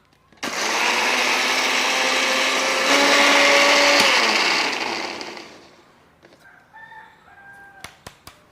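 A kitchen mixer grinder whirs loudly and steadily for about five seconds, grinding spice paste ingredients with a little water, its pitch shifting slightly midway before it spins down, followed by a few faint clinks and taps.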